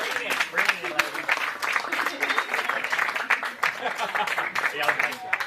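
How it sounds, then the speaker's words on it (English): Wedding reception guests breaking into applause, a roomful of hands clapping in uneven bursts while voices talk and cheer over it, moderately loud and close. "Round of applause here."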